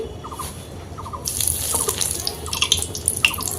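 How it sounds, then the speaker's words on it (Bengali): Peanuts frying in oil in the same pan used for chickpea lentils, crackling and sizzling more sharply after a moment, with scattered pops close by. "একশো গ্রাম বাদাম একই তেলের মধ্যে ভেজে নিচ্ছি"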